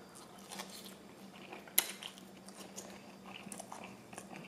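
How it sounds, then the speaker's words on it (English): Someone bites and chews three Thai chilies close up and quietly, with one sharp crunch among soft, irregular wet chewing sounds. No one speaks. "Three Thai chilies I'm chewing on."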